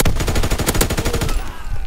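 A light machine gun fires in a video game as a fast, loud, close burst of evenly spaced shots lasting over a second, then quickly fading.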